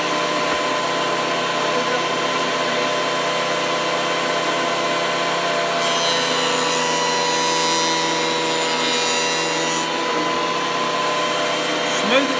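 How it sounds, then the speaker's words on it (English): A Cutech benchtop jointer smooths a rough wood piece for a table build, giving a steady, loud machine whir and cutter rasp throughout, with a brief brighter cutting texture partway through. "I'm going to run this piece through there."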